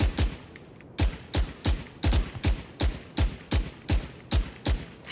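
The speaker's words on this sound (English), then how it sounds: "the best way to use Phantom is walking and running and gunning" Phantom rifle fire in the shooter game Valorant, heard as short bursts of sharp, loud shots in a steady stop-start rhythm, about a dozen reports over several seconds with no talking.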